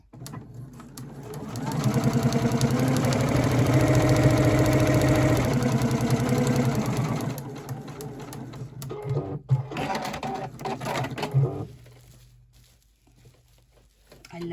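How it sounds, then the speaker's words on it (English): A Juki sewing machine stitching rows at home runs with a fast, steady mechanical whir and needle patter, slowing and stopping in stretches near the end, with someone talking now and then. "So I'm just going to keep following my lines and sew."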